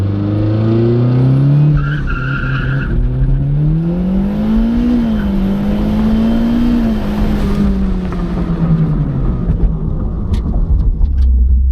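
A car with an electric turbo torque amp launches hard from a foot-braked standstill, its loud engine note climbing and sweeping through the gears with a tire squeal, close and alone.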